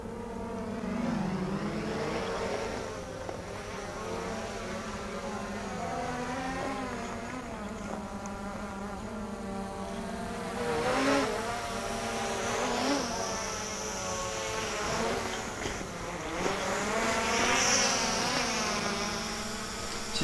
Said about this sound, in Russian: дрон ведет себя абсолютно нормально.